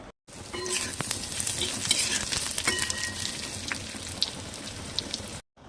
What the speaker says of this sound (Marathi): आलं, लसूण, कांदा तळून घ्यायचा आहे